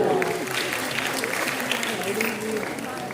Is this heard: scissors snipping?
no